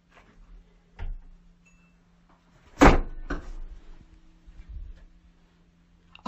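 An indoor door opens with a few knocks and clunks, then a sharper bang of the door moving, set against near silence with a faint hum.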